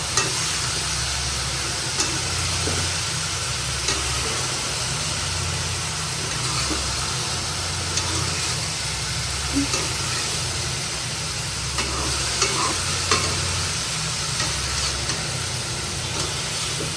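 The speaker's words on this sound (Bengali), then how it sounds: "নিচ থেকে ভালো করে নাড়িয়ে দিব।" Vegetables being stirred in a frying pan for a winter vegetable bhaji, with a steady sizzle and scraping stir strokes running close and continuous throughout, no talking.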